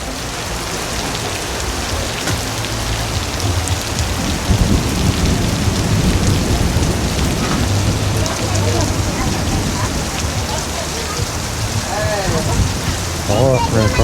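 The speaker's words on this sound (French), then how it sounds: "Je crois qu'il est en train de commencer à pleuvoir" Rain falls steadily and densely on surfaces in Melaka, Malaysia, a loud continuous wash with low rumbling underneath, close and unbroken through the whole stretch, with faint voices in the background.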